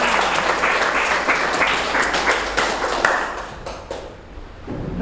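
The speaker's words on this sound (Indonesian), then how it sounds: "Bagus, tepuk tangan dulu untuk kita semua" A class of students applauds together in a classroom, a dense, steady wash of clapping hands held for several seconds that thins out near the end.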